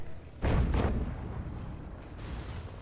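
A tank cannon firing in a tank video game, an Obj 430 II shooting at a Scorpion: one heavy, loud boom with a short second burst, then a rumbling tail that fades away.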